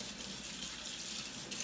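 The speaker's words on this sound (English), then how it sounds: "take your cloth under hot water" Hot water runs steadily from a tap over a Norwex cleaning cloth, a constant close hiss and splash with no pauses and no voices.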